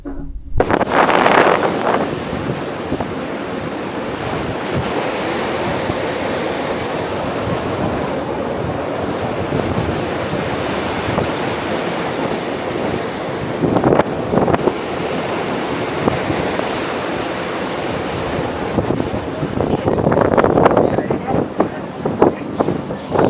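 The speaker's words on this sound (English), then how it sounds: "Windy and very, very cold." Steady wind roars across an open Greenland shoreline, with surf rushing and swelling louder near the start and end.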